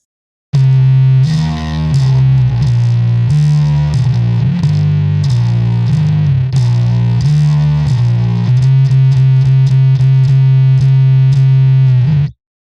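Distorted electric bass plays a riff, a heavy, loud doom-sludge line of shifting sustained notes with effects, ending in faster repeated picked notes, alone without talk.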